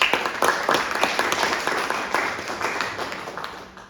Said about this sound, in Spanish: Demos un aplauso a la ingeniera Maribel Guzmán.